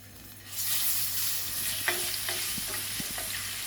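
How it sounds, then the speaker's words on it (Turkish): Garlic sizzles in half a tea glass of oil in a pan, a steady close frying hiss with occasional spoon scrapes and taps as it is stirred. "Yarım çay bardağı yağımız vardı. Bir diş sarımsağımız vardı. Az bir şey kavuracağım."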